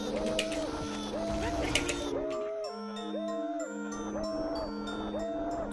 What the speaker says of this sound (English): the cow's right there.